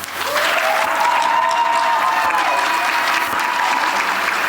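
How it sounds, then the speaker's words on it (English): Audience applause for a professor at a book launch, a loud, steady wash of clapping from a large crowd that holds evenly from start to finish. "let's give Professor a round of applause"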